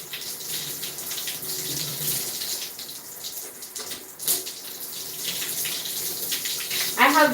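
Water runs from a tap during a hair wash at home, a steady splashing hiss with brief louder gushes and a rising squeak near the end.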